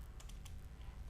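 Quick keystrokes on a computer keyboard while working in Excel, a short run of soft clicks, close and quiet, with no one speaking.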